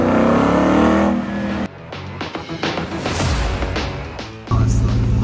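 A 1966 Ford F100 pickup with a swapped Coyote V8 and side pipes revs and rumbles nearby, the exhaust note rising and falling in bursts with a brief cut between.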